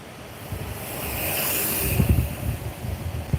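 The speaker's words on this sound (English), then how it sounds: "There's some gnarly waves." Ocean surf breaks along a beach, a broad roaring wash that swells steadily louder, with heavy wind buffeting the microphone and rumbling gusts near the end.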